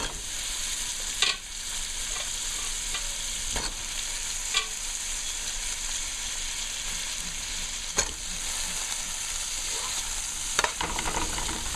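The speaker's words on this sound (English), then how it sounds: "I'll be adding in the potato right now." Potato pieces frying in egg curry in a pan, with a steady close sizzle broken by a few sharp scrapes and knocks of a spoon stirring, no voices.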